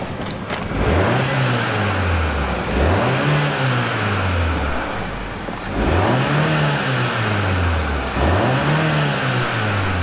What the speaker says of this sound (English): They limit the amount of rev you can do when you're just sitting here revving on it